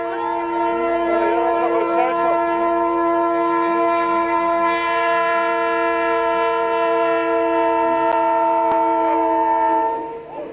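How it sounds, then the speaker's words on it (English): A goods train sounds its horn in a long sustained multi-tone blast during the 1992 Sasol 400 Rally, loud and close, holding steady for about ten seconds before fading slightly at the end. "an unscheduled goods train literally crosses their path"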